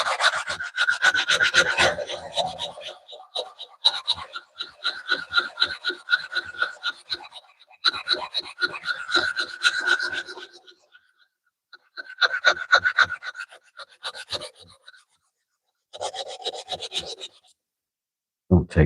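Hand sanding of cedar wood with 80 grit sandpaper, close rhythmic rasping strokes in several bursts separated by short pauses.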